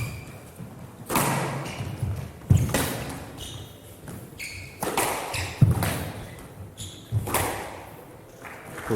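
Squash ball struck back and forth during a men's semi-final rally at the GFS Karachi Open, sharp thuds ringing in the court every second or so with roomy echo, crowd ambience underneath.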